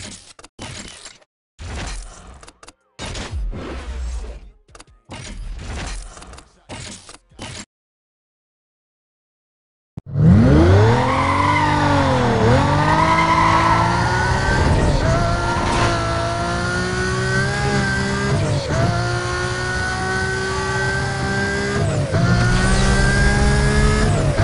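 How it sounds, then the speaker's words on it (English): A car speeding and racing in Need for Speed: Most Wanted: after a few seconds of choppy bursts and a brief silence, a loud, continuous engine roar climbs through revving gear changes, steady and close. "We just received a complaint about a speeding vehicle."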